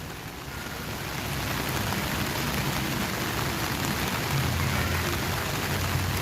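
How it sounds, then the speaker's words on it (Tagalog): Steady rain falls across Plaza Mexico in Manila near the Pasig River Esplanade, a dense, continuous hiss that swells after the first second and holds evenly, with no voices. "Yan, so umuulan ngayon."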